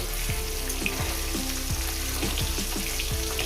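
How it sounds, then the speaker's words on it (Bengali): Pieces of catla fish frying in oil, a steady close crackling sizzle with faint rhythmic scraping taps of a utensil against the pan throughout. "হালকা করে লাল লাল করে ভেজে নেবেন যেভাবে আমি ভেজে নিচ্ছি"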